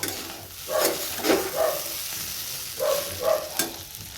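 Chowmein frying in a pan with potato, cauliflower and an egg, with soft sizzling and a few spatula stirs and scrapes in uneven bursts, close up and without speech.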